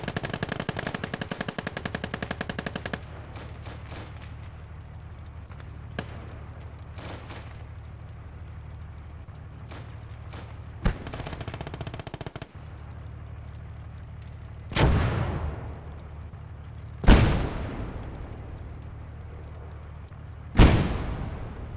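Bursts of gunfire and heavy booming blasts from combat in the WWII strategy game Gates of Hell, aimed at a flak gun: rapid firing early on, then several loud, sharp detonations with decaying tails over a steady low rumble.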